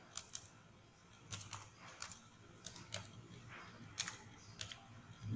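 Typing on a computer keyboard while a spreadsheet formula is entered, faint clusters of key clicks separated by short pauses.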